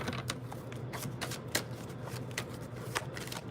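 Tarot cards are shuffled repeatedly, quick riffling bursts and soft slaps following one another close to the microphone.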